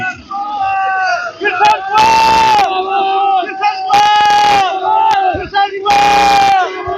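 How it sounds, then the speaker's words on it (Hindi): Supporters of BJP candidate Krishan Lal Panwar crowd together in Kalkha village, chanting slogans and shouting in loud, repeated bursts of cheering, with voices close and strong throughout. "कालखा गांव में उमड़ी भीड़ भाजपा प्रत्याशी कृष्णलाल पवार के लिए"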